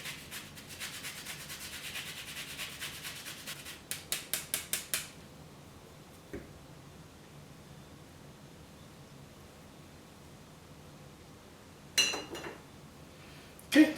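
An orange zested over a bowl: a steady soft rasping scrape runs throughout, with a quick burst of short rhythmic strokes early on, a few sharp taps and a clatter near the end, close and fairly quiet.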